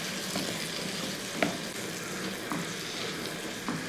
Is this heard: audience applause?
no